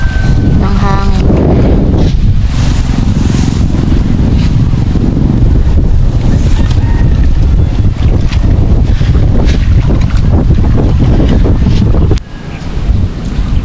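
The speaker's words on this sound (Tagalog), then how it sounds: "Mahangin po, naririnig po siguro ninyo yung ubo ng hangin." Loud, constant wind roaring and buffeting against the microphone beside rice paddies, with a voice briefly speaking Filipino underneath before the gusts ease near the end.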